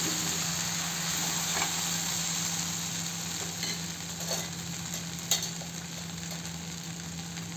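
Okra coated in gram flour fries in a pan, giving a steady close sizzle with a faint hiss. A spoon scrapes and stirs now and then, and there is no talking.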